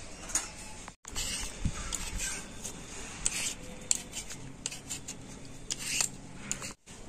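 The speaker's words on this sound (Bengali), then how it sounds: "তো এই আলুটা আমি প্রথমে ভালো করে ছাড়িয়ে নেব।" A potato being peeled by hand at home, a run of short scraping, rasping strokes repeating at an irregular pace, close and fairly quiet, with two brief silent gaps.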